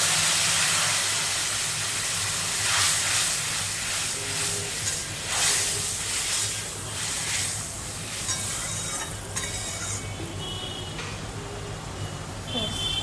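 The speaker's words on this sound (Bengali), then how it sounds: "এরপর আমি দিয়ে দিচ্ছি পরিমাণ মতন গরম জল" Hot water poured into fried spice paste for a curry sets off a loud, steady sizzling hiss of steam that gradually fades and softens, with a few clinks and bubbling sounds later on.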